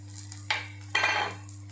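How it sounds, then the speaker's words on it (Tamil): Capsicum is stirred in a cooking pan, producing two brief, close scraping clatters of a spatula against metal over a low steady hum, with no speech. "குடக மிளகாய் சேர்த்து கொஞ்சம் கலந்து விட்டுக்கலாம்"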